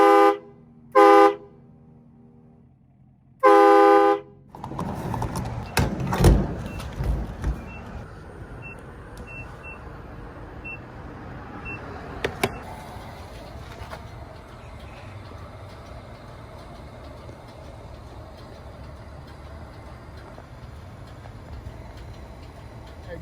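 Train horns installed on a Chevrolet Silverado pickup blast three loud, close honks, the last one held longer, then die away into a lingering echo and low outdoor rumble with scattered small knocks.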